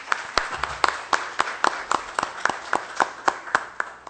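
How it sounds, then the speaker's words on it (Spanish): Applause at a legal conference in Oaxaca after a presiding electoral magistrate is introduced: loud, close, steady rhythmic clapping with evenly spaced sharp claps. "para quien pido un caluroso aplauso"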